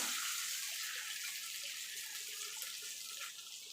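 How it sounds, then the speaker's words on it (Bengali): Water pours into a bowl as it is rinsed, making a steady, close, hissing splash that fades slightly toward the end, with no talking. "বাটিটা ধুয়ে জল দিয়ে দেবো"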